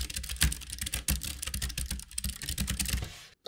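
Rapid, steady typing on a Keychron K3 ultra-slim optical mechanical keyboard, crisp close-up clacks running in continuous bursts before stopping abruptly at the end.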